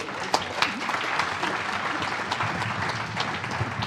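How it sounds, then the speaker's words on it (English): Steady applause from a conference audience at a nicotine policy forum, a dense wash of many hands clapping at even loudness throughout, with a few sharper individual claps standing out near the start. "Applause for"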